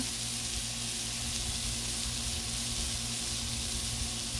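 Steady broadband sizzling and hissing of water hitting a hot Blackstone griddle cooking thick-cut pork chops, continuous and close with a low hum underneath.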